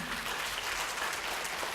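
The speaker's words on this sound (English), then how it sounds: "can we give a round of applause for our sponsors, ladies and gentlemen?" Seminar audience applauding event sponsors, a brief, even wash of many hands clapping at once, moderately distant and continuous without pause.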